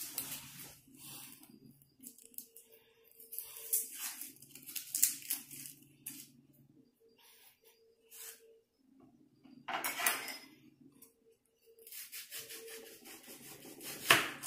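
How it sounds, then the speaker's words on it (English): Dry papery rustling and crackling as onion skin is peeled off by hand in a home kitchen, coming in close bursts separated by short quiet gaps. "I'm going to start peeling. Peeling the onion."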